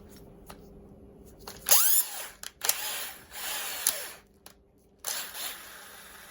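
A hand-held power tool with coarse grit sands the seat of a 1973 Honda PC50, coming in several loud whirring bursts that rise and fall, separated by short quiet gaps, close by with no speech.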